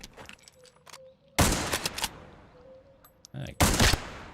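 Gunshots strike a creature in the video game Pioner. Two loud bursts of rapid fire ring out, separated by a quieter stretch with faint speech and tonal game sounds.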